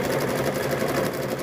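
A sewing machine runs steadily as it stitches binding onto a quilt, a close, continuous fast whirring hum without any break.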